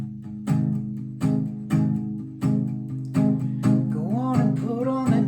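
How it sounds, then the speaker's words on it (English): Open-chord version of a song strummed on guitar: about seven full, ringing strums at a steady, unhurried pace, close and clear, with no voices. "So the open chord version would sound like this."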